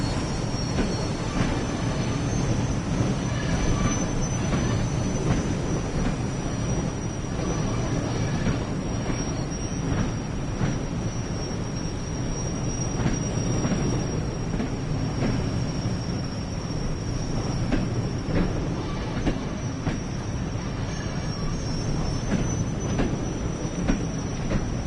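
A train in Train Sim World pulls away from a platform at night with a continuous rumble and clatter of wheels on rail, joined by a thin sustained squeal, and no talking.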